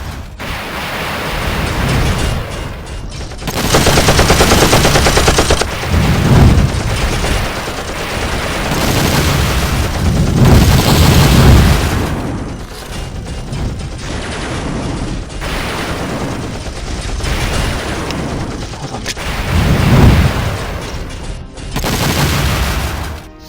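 Heavy bursts of gunfire and booming blasts roll through a Transformers stop-motion battle scene, loud sustained volleys that swell and fade in waves with dense mechanical clatter and no voices.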